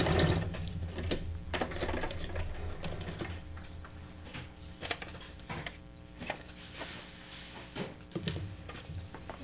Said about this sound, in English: I'm just doing like a little frame of stitching.